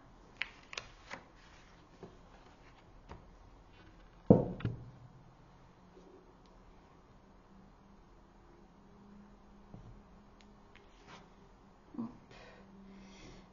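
Tarot cards are shuffled quietly for a reading: soft, sparse riffles and taps spread across a near-silent background, with one louder burst of cards near the middle.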